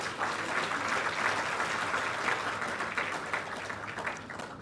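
Dense, steady applause from a large audience at a state-level award ceremony honoring UPSC and IIT-JEE qualifiers, loud and continuous throughout without a break.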